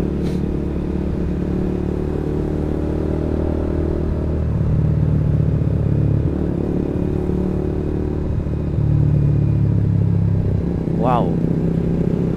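Motorcycle engine droning steadily on a rainy ride near Bogor, with a low rumble that swells around mid-ride and again later, and a brief sharp rising whine near the end; a voice talks over the engine.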